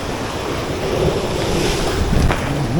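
Rough ocean surf breaking against a rocky shore, a continuous loud roar of wash and spray mixed with gusty wind noise on the microphone, with no voices.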